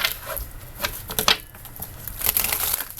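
Tarot cards shuffled during a love reading, a soft papery riffling and patter that rises and falls over a few seconds, close and fairly quiet, with no talking.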